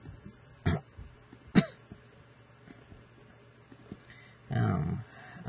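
A person coughs and clears their throat in three short, separate bursts: two sharp ones, then a longer rough one, close and fairly quiet, with near silence between them.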